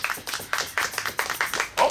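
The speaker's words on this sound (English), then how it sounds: "Round of applause for him." Audience at an outdoor Porchfest variety troupe show claps and cheers for a performer, with bursts of applause and a few whoops in quick, uneven pulses, close and moderately loud.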